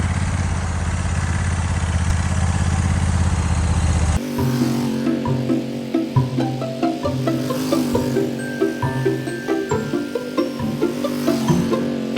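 A Honda Africa Twin Adventure Sports DCT motorcycle ridden during slow practice maneuvers: a steady, close engine drone first, then a rhythmic pulsing engine note that rises and falls with the throttle.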